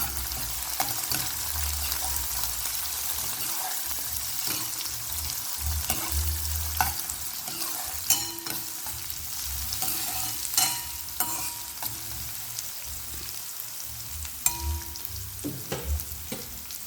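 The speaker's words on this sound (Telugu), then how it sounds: "వీటిని మనం ఒకసారి కలుపుకుందాం" Onions, curry leaves and tempering spices fry in oil in a pan for a ridge gourd and moong dal curry, a steady close sizzle broken by repeated scraping and clattering as a spoon stirs them.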